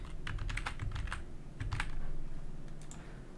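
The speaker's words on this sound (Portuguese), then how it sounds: "Aí você vai digitar o seu CPF." Keys clack on a computer keyboard while a CPF number is entered into an online form, a quick close run of taps with brief pauses.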